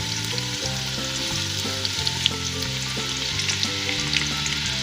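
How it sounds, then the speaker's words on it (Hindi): Chopped onions hit hot ghee in a pan and sizzle loudly and steadily, a dense continuous frying hiss with faint scraping stirs, no voices. "और इसमें मैं डाल देती हूँ ये प्याज जो मैंने चॉप करके रखी हुई थी।"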